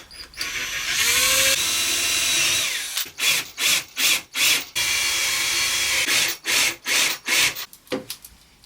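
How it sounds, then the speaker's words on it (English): A power drill whirs steadily into wood, then bores pilot holes in a series of short bursts, stopping and starting several times, loud and close. "I've just drilled some pilot holes with that. I just want to drill some slightly deeper"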